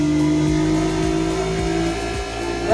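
A car engine revs loudly and steadily, a rising mechanical whine with rhythmic thumps underneath, sounding like a racing game.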